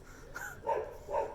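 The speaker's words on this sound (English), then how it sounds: "that's at least a dog barking" A dog barks outdoors, giving three short, sharp barks in quick succession at a moderate distance, with no other sound.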